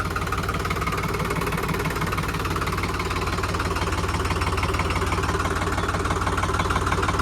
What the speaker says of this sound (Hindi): ये एक नंबर लगते हैं न्यू हॉलैंड 3630। साउंड भी अभी मस्त है भाई एकदम।